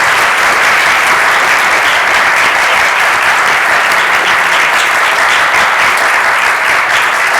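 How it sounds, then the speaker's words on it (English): An audience at an architecture talk on biophilic design applauds its two panelists with steady, dense clapping that stays loud and even from start to finish. "give a big round of applause for our two panelists, Dr. Ken and Amanda."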